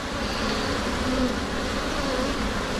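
Honeybees buzz around an open beehive during a hive inspection. A dense, steady drone of many bees holds close and constant throughout, with no talking.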